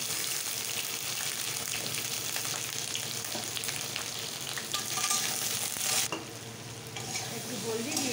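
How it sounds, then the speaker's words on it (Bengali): Pointed gourd and potato pieces frying in a pan: a steady, close sizzle with scraping stirs throughout, a clatter of utensils near the end. "আগে পটল আর আলু কটা ভেজে নিই।"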